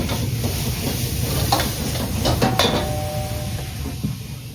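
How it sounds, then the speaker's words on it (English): Fried rice ingredients stir-fried over high heat for Yangzhou golden egg fried rice, giving a steady, close hiss and roar of cooking with scattered clinks and scrapes of metal utensils against the pan throughout. "Stir-frying everything quickly over high heat releases the wonderful aromas."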